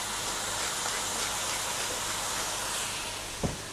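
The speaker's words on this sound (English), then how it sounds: "So guys, frying for a minute." Potatoes, onions and other vegetables fry in a pot on gentle heat for soup, giving a steady soft sizzling hiss throughout with one brief clank near the end.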